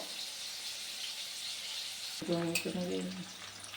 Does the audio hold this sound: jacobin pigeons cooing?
no